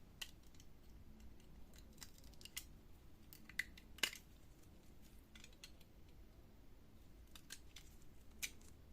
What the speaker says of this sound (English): so I will replace the rubber using a sharp knife. Carefully cut off the rubber.